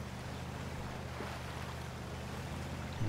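Game truck in Spintires: Mudrunner, Siberia map, fording a river against the current with the differential locked: a steady wash of rushing water and low engine rumble, continuous and moderately loud with no voices.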